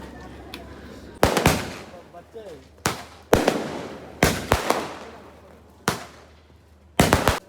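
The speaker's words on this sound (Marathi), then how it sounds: "फटाके लावले बघा." Firecrackers burst during a wedding procession, about six sharp, loud bangs at irregular intervals, each with a short crackling tail over a low murmur of background noise.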